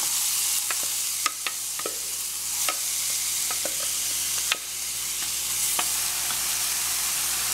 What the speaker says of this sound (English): I prefer to give my buljol a little cook in some oil on the stove.